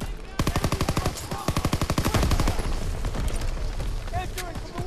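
Rapid bursts of automatic gunfire from a Call of Duty WWII campaign battle, close and loud, with a run of fast shots, a pause, then another volley, followed by dense battlefield noise and voices talking over it.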